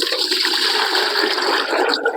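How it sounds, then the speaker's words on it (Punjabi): Water gushes steadily and loudly into a milk and jaggery mixture being prepared as an organic plant-growth spray, a continuous rushing pour with no talk over it. "ਉਸ ਤੋਂ ਬਾਅਦ ਜੀ ਇਹ ਅਸੀਂ ਪਾਣੀ ਪਾਵਾਂਗੇ"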